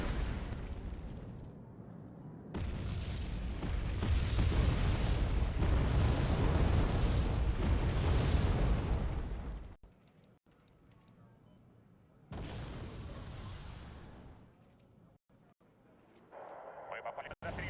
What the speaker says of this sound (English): Мы попали под обстрел.